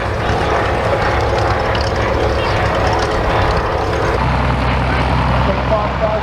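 Short Tucano basic trainer aircraft flying at the Stellenbosch Airshow, a steady loud propeller engine drone filling the whole stretch with a slight drop in tone near the end.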